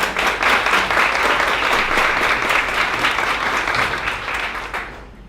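Audience applause fills a hall, a dense, steady wash of clapping that holds for several seconds before tapering off.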